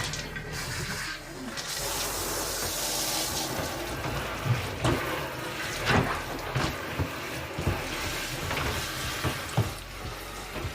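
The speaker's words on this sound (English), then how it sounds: "Okay, and then again, we get the water in here. Now this is a rinse cycle because we just washed." A portable washing machine fills with water for its rinse cycle, producing a steady rushing, splashing flow up close with occasional clunks and knocks over the continuous stream.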